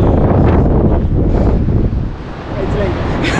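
Strong coastal wind on steps along Australia's Great Ocean Road roars loudly into the microphone in a dense, continuous rush that eases briefly midway and then picks up again.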